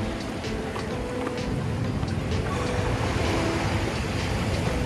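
Sea waves surge and break at Bandstand in Mumbai, a loud, unbroken roar of surf mixed with gusting wind noise on the microphone, with no voices.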